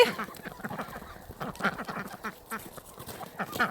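A group of ducks quacks steadily and close up while eating an organic mix of spring greens and lettuces, a busy, overlapping chatter of nasal calls.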